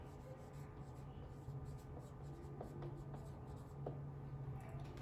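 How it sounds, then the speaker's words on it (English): Pen writing on paper during a math lesson on graphing and substitution, a steady soft scratching with a few brief strokes over a faint low hum, no talking. "Let's go ahead and write that."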